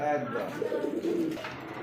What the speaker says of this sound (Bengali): আরও একজন ইন্ডিয়ান বোম্বাই কবুতর ব্ল্যাক কালারের মধ্যে ঠোঁট সাদা